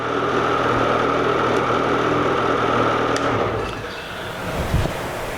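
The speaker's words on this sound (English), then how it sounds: "we're going to leave the sled running" A snowmobile left running at idle, a steady close engine hum with a constant buzzing tone that eases slightly near the end, with a couple of faint knocks and no talking.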